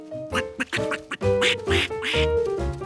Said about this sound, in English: Your ducks are hatching.